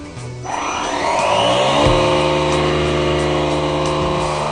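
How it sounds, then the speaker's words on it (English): Automatic tire inflator pumping air into a car tire, a loud motor whirring up to speed within the first second, then holding a steady buzzing drone with a rising-and-settling pitch, close and alone. "As you can see or hear, it fills up the tire, and it will stop once it is at 30"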